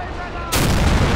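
Loud gunfire bursts out abruptly in a video game battle, following a brief stretch of quieter rumble with a voice, and then fills the rest of the moment as a dense, close barrage.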